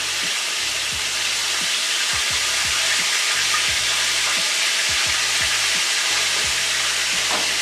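BBQ chicken fries in a pan with a dense, constant sizzle and crackle, close and steady throughout, with a few soft knocks and scrapes underneath and no talking.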